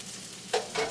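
Sliced food frying in a pan makes a brief sizzle, with two quick stirring scrapes close by.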